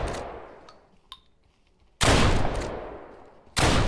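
Gunshots in the video game Deadside ring out as sharp, loud cracks, one blast with a fading tail and then another after a short pause, alone without talk.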